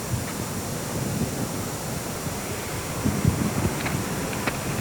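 Wind gusting across an outdoor mini-golf course, a loud continuous rushing roar against the microphone with occasional heavier buffets and no voices.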